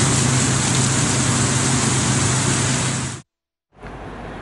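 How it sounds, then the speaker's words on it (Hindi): Heavy monsoon rain pours over Karachi in a dense, steady roar, cutting out abruptly for a moment before resuming at full strength; no voices are heard. "मानसून की बारिश ने कराची में जल थलेक कर दिया।"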